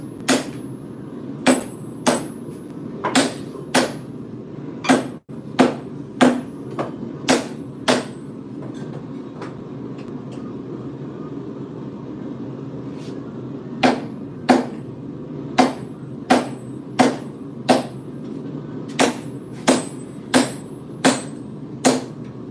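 Hammer blows ring out on flat steel stock being bent over into a rough gouge shape. The strikes are loud, sharp and close, landing in irregular bursts with short pauses between groups.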